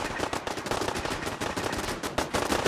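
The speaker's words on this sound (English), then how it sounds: "Look at that crossfire. Crossfire from the kill box." Rapid automatic gunfire crackles in a crossfire from a kill box in Fallout 4, dense bursts of shots overlapping without pause, loud and continuous.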